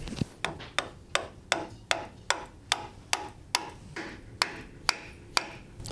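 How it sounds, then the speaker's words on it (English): A greased bolt being hammered into oak: about fourteen sharp, evenly spaced metallic-wooden strikes in a steady rhythm, close and clear, with no talking. "so I'm going to hammer this in"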